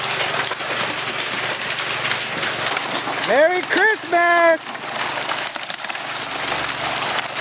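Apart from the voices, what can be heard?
rain falling outdoors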